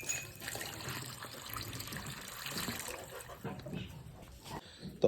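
Water poured into a drinking container for Tharparkar cattle, a continuous splashing, gurgling flow at close range, moderately loud and unbroken across the moment with faint background noise.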